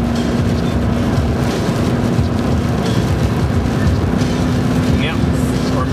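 A 2001 GMC's engine and road noise fill the cabin with a steady, loud, broad drone that holds at a constant level throughout.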